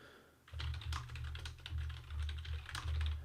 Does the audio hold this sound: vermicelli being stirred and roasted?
no